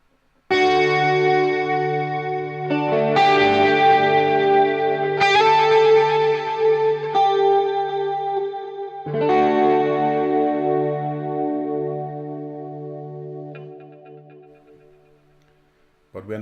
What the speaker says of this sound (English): turn on the compressor, turn on the chorus, and maybe even the multi-delay